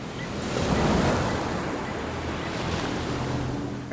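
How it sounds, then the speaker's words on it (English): Heavy ocean surf roars steadily in a storm at sea, a dense, continuous wash of breaking waves with wind buffeting the microphone, swelling slightly then holding loud throughout. "I just remember those waves, the sound of those waves."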